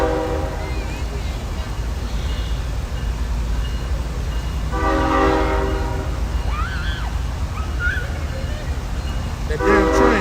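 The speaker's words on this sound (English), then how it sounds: "You know he gonna keep blowing that fucking horn." A passing train in Baton Rouge sounds its horn in long, loud blasts, one midway and another starting at the end, over a constant heavy rumble of the rail cars.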